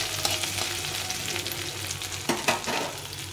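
Crushed ginger frying in a pan over lowered heat for a mixed vegetable dish, a brief close sizzle with a couple of soft stirring scrapes.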